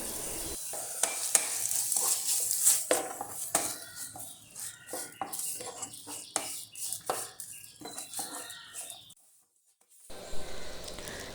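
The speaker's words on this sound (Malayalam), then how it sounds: "ഇതെല്ലാം കൂടെ വന്നിട്ട് നന്നായിട്ടൊന്ന് വഴറ്റണം." Green chillies and tomatoes sautéing in a pan for celery curry, with soft sizzling and repeated scraping, clinking stirs of a spoon against the metal, then a brief pause before stirring resumes.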